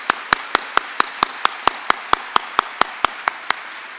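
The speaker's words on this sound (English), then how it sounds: "A round of applause for our stage party" Regular, evenly spaced claps ring out one after another at a commencement ceremony, sounding like a single pair of hands clapping steadily close by rather than a full crowd.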